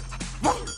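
Australian shepherd dogs give a single short bark or yip, close and fairly loud, within a brief moment otherwise quiet.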